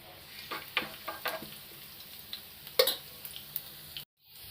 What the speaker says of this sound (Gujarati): તેલ સહેજ ગરમ થાય એટલે એની અંદર આપણે નાખીશું આવી રીતે ચોપ કરેલું જે લસણ છે એ લસણ નાખી દેશું